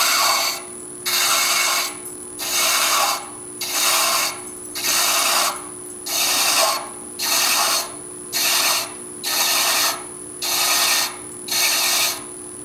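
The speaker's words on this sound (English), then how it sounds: "once I get the thread chaser right here, I simply pull back on my armrest tool." A thread chaser cuts threads into a cast resin needle case spinning on a wood lathe, giving a regular series of rasping, scraping bursts, about ten evenly spaced strokes, close and loud over a steady machine hum.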